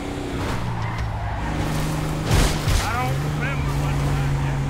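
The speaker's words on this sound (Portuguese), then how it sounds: "Meu Deus, o carro não acelera não" A slow, sluggish car in GTA V drives with a steady low engine drone, a couple of louder bumps midway, and a voice talking over it.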